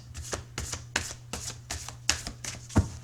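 Tarot cards shuffled by hand, a quick series of crisp riffling bursts about eight times in three seconds, close and clear with no talk.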